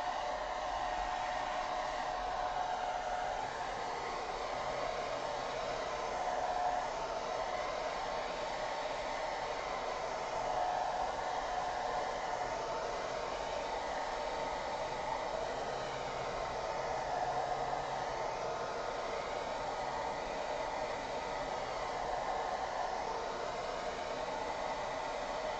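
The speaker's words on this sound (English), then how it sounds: "I'm gonna use the hair dryer for a minute, get my sky blue, my blue sky dry." A hair dryer blows continuously to dry sky-blue paint on artwork in a studio, a steady even whooshing hum held at constant level for the whole stretch, with no talk.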